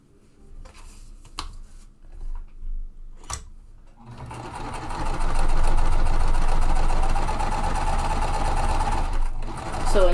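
A home sewing machine stitches quilt fabric pieces, first a few short clicks and brief runs, then a steady, loud, close whirring run of continuous stitching for several seconds.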